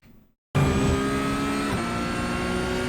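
Porsche 992 Cup race car from iRacing, engine at full throttle around Brands Hatch: a brief quiet moment, then a loud, sustained high-revving engine drone with steady harmonics, alone without talk.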